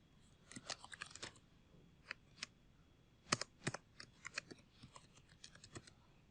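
Keys tapped on a computer keyboard while HTML code is entered, heard as scattered quiet clicks in short irregular bursts with pauses between, close to the microphone and without any voices.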